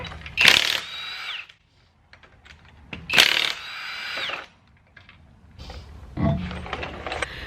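Cordless impact wrench loosening lug nuts to remove a wheel from a 2022 Buick Enclave, three separate bursts of whirring and rattling, the first two loud and high-pitched, the last shorter and lower, with quiet gaps between.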